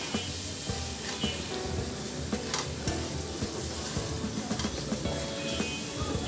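Spices with salt and a little sugar sauté in a pan for a mixed vegetable dish, a constant close sizzle broken by scraping stirs of a spoon, with no voices.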